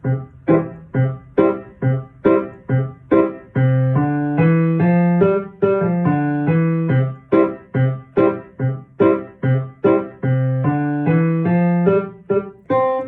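Piano plays a bright melody over chords, with repeated short notes and a few held phrases, close and clear.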